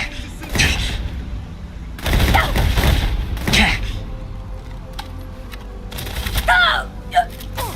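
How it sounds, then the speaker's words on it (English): Gunfire from enemies shooting at the player in the game Starfield, loud bursts of shots and impacts arriving in several separate volleys with short gaps between them. "They just see me and shoot at me."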